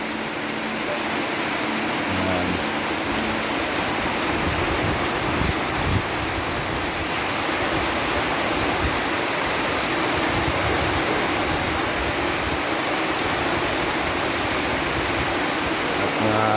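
Steady rain falling outdoors just after an earthquake, a dense, even hiss of drops that holds at a constant loudness throughout with a low mechanical hum underneath.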